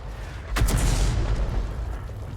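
A 128mm tank cannon fires once in a tank video game, a single heavy boom with a sharp onset that rolls into a long, low rumble.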